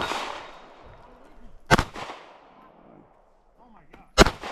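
Gunshots at a shooting range, heard through a helmet-style action camera. Two sharp, loud reports come a couple of seconds apart with a decaying echo after the first. Someone talks quietly between the shots.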